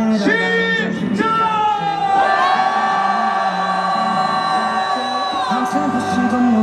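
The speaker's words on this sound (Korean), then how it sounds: "윤석열 파면을 확실하는 함성 시작!" Crowd cheering and yelling at a political rally outside the Constitutional Court in Seoul on the day of the Yoon Suk-yeol impeachment ruling, a sustained roar of many voices with rising and falling shouts and whoops.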